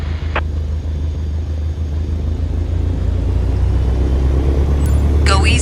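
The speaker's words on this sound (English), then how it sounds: "Now, gently increase throttle to get the aircraft moving." A light aircraft engine throttles up to taxi, a steady loud drone and low rumble holding throughout, with a brief sharp clatter near the end.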